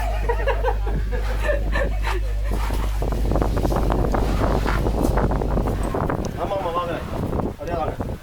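Strong wind roars across an exposed rocky mountain trail on the Marunthuval Malai hike near Kanyakumari, buffeting the microphone steadily while people talk and a dog barks now and then.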